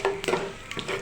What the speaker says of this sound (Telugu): మినపప్పు, కరివేపాకు, ఆవాలు వేసాను.